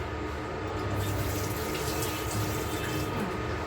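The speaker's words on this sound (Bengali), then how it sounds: "মাছটাকে ধোয়া হচ্ছে সুন্দর করে।" Fish being washed in a home kitchen under a running tap, a steady, close rush of water with slight splashing changes as the fish is rinsed.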